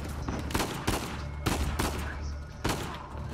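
Pistol gunfire in the video game Uncharted 4 during a prison break: four sharp shots at an uneven pace over a steady background of game ambience, with no speech.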